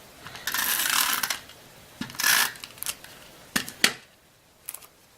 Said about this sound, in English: I'm going to put some snail up right on the back there